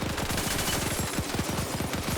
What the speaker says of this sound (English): That's an MG42.